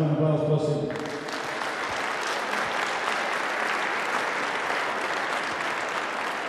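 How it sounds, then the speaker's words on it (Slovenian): An audience bursts into sustained applause at a local sports awards ceremony, a thick even roar of many hands clapping that follows a brief stretch of music and carries on steadily. "Dajmo vam aplavz, prosim."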